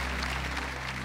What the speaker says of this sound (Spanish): Un aplauso para esa hermosa relación